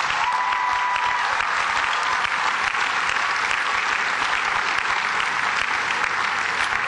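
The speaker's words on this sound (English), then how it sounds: "Let's give them a round of applause." Sustained audience applause at a university commencement ceremony at UMass Boston, a broad, even roar of many hands clapping from a large crowd, continuous and loud throughout.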